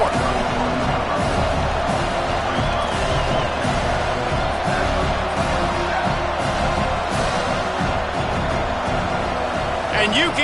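Roaring stadium crowd in a Florida State college football video game, a dense constant wall of noise under near-continuous commentary, with scattered cheers rising through it.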